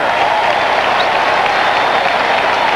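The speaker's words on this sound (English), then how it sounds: "the crowd cheers" A football stadium crowd at a 1991 Cleveland versus NY Giants game roars in dense, sustained cheering and applause, loud and unbroken.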